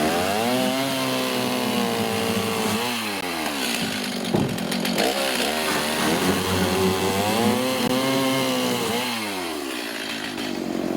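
Chainsaw sharpening the point of a wooden stake outdoors, a loud, steady motor drone whose pitch dips and rises as the chain bites into the wood, running continuously throughout.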